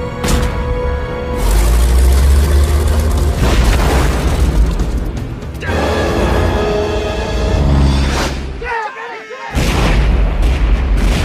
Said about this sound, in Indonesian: Tembakan pun terus diluncurkan demi melumpuhkan Anna dan Queen.